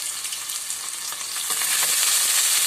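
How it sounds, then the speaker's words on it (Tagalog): Vegetables sautéing in a pan for a lemongrass vegetable dish, with a continuous bright sizzle that swells louder midway as food is stirred, close and without talk. "Gusto ko ginigisa para mabango."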